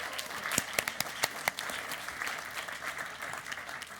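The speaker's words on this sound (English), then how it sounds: "can we send them on the way with some applause" Applause from the audience at a FameLab International 2019 science communication competition semi-final, a dense burst of clapping with a few sharp individual claps standing out, steady and fairly close throughout.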